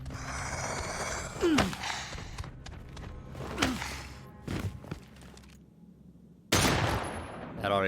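Pistol gunshots in the survival horror game Daymare: 1998, a few loud sharp bursts spaced a couple of seconds apart, with a heavier blast near the end.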